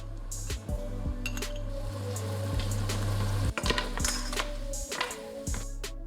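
Three cloves of crushed garlic sizzle in a pan for Taiwanese braised pork, a soft steady frying hiss beneath frequent clinks and taps of utensils against the pan, close and moderately quiet.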